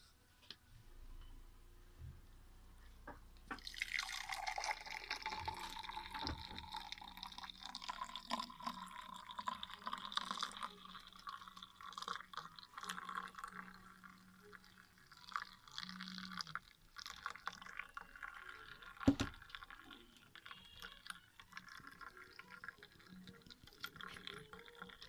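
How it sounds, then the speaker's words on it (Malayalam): Passion fruit juice poured into a glass makes a faint, continuous liquid trickle that starts a few seconds in and runs on for a long while, with occasional light clinks. "എൻ്റെ ഗ്ലാസ്സിലോട്ട് ഒഴിച്ചുകൊണ്ടിരിക്കുകയാണ്."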